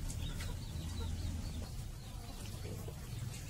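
Chickens suffering a winter respiratory illness cluck softly in a coop, faint scattered calls over a steady background hiss.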